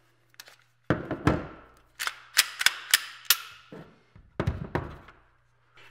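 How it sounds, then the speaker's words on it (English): A Glock pistol is cleared by hand, giving a run of sharp close metallic clacks and snaps in irregular bursts, with the slide racking and parts knocking against each other, and no speech. "First thing I'm gonna do is clear the firearm."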